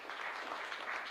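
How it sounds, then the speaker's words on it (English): Brief, faint applause at a university graduation ceremony, a soft continuous wash of clapping lasting about a second, distant and even in level. "Let's clap for him."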